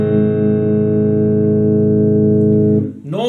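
A sustained guitar chord played with the first string muted by the third finger rings loud and steady for nearly three seconds, then cuts off with a brief scrape of fingers on strings.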